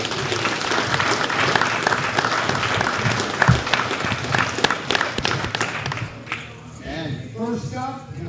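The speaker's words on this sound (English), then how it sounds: "Let's give everybody a round of applause" Crowd applause at a blue belt jiu-jitsu invitational, steady dense clapping for about six seconds that then thins out and fades, with a voice coming in near the end.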